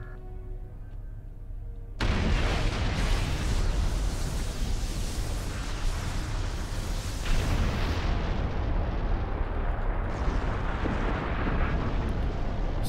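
A starship comes under attack in the Star Trek Online video game: a dense, continuous barrage of rumbling explosions and weapon impacts bursts in suddenly and roars on without pause.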